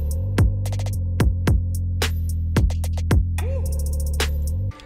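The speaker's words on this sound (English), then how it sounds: "when we mix all like the drum sections, including the bass and hi-hats, it sounds something like this." A dark hip hop drum mix with kicks, a sustained droning bass and bursts of crisp hi-hats layered together, loud and steady for several seconds before cutting off abruptly.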